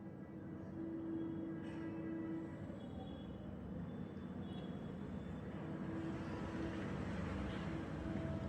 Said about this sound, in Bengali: আজকে আমরা এসি ট্রেন পেয়েছি এবং সেই ট্রেনে করে যাচ্ছি